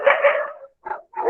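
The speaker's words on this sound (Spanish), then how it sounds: "Se escuchan clarito, clarito los perros." Dogs barking some way off, a burst of several overlapping barks followed by two shorter barks after a brief pause, with no voices over them.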